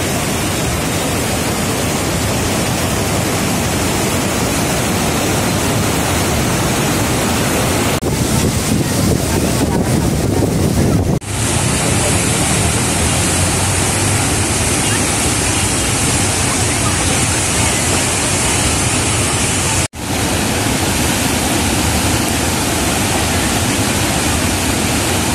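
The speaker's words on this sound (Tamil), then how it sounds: "நம்ம ஃபைனலாக இந்த மதகு வழியாக தண்ணி போகிறத பார்த்துருக்கோம்." Water rushing through a sluice gate in a loud, unbroken roar heard up close, the torrent's tone shifting briefly partway through before the steady rush resumes.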